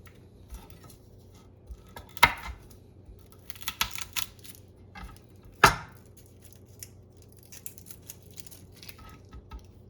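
A knife taps on a cutting board while garlic is minced with a little salt. The sparse, uneven clicks are fairly quiet, with two sharper knocks standing out, and no one speaks.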